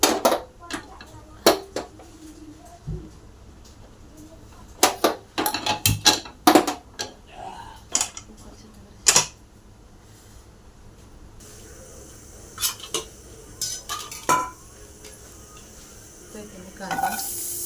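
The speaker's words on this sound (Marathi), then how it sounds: "आणि इथे मसाला भाजून घेऊया." Spice masala roasting in a pan beside a pressure cooker, with a dense sizzle under repeated sharp scrapes and clinks of a spoon stirring against metal, some bursts close together and others spaced apart.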